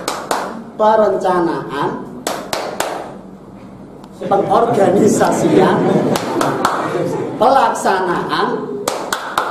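Group rhythmic hand clapping in a classroom chant called tepuk rencang lawas. Bursts of sharp claps in a repeating pattern alternate with spoken chanting of a list of words, with voices talking between the clap sequences.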